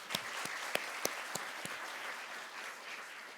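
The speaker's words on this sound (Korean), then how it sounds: "박수 한번 쳐주세요" Applause from a children's group at a summer Bible school session, light and moderately close, with a few sharp individual claps standing out early before the clapping thins and fades.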